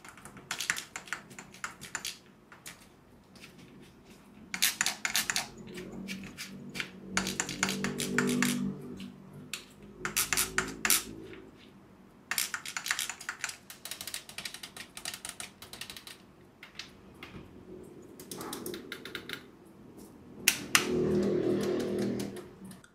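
Crisp clicks from the mechanical micro switch buttons of a Flydigi Vader 4 Pro gamepad, pressed in quick irregular bursts close up, with quiet pauses between the clusters of taps.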